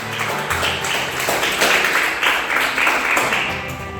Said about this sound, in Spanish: Dale fuertes palmas a Jesús